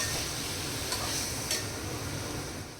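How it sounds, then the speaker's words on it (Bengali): Marinated chicken coated in sour yogurt and spices sautéing in a pan over low heat, giving a soft, steady sizzle broken by a couple of brief stirring scrapes and utensil clicks. "এবার আমি ম্যারিনেটেড চিকেনটা দিয়ে দেবো, দিয়ে খুব সুন্দর করে আমি চিকেনটাকে কষাবো"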